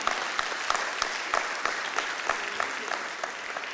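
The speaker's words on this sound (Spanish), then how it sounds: "Denle un fuerte aplauso al Señor" A church congregation breaks into loud, steady applause for the Lord during a Spanish-language sermon, a dense wash of many hands clapping together that carries on throughout with no pause.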